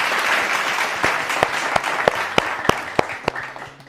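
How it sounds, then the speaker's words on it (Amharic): Warm applause on a cooking competition show, a dense burst of studio clapping that thins toward the end into a few sharp, separate claps. "ለራሳችሁ ሞቅ ያለ ጭብጨባ ጨብጭቡ።"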